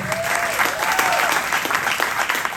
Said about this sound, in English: Again, one more big round of applause for Santi on trumpet,